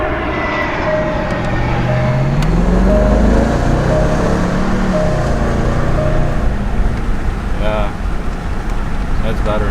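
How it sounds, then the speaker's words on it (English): A supercharged Range Rover Sport engine pulls hard under acceleration, a loud, rising mechanical roar with a whining charger note climbing and settling as the revs build, heard from inside the cabin. "Oh yeah, supercharger is charging."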